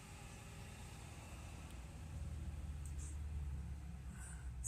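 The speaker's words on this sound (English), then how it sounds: "I wait for this noisy truck to go by." A noisy truck passes by outside, a broad low rumble that swells louder over a few seconds and stays steady, with faint higher hiss above it.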